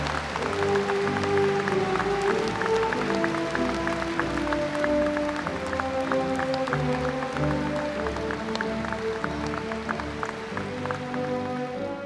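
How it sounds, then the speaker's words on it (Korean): An audience at a Korean history and culture festival awards ceremony applauds steadily for several seconds while background music plays alongside the clapping. "큰 박수 한번 보내주시기 바랍니다."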